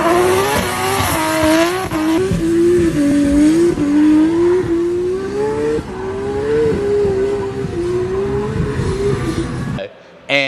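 A drift race car engine at full throttle on a flat-out pass gives a loud, sustained howl that climbs and dips in pitch for about ten seconds, with some tire noise, then cuts off abruptly near the end.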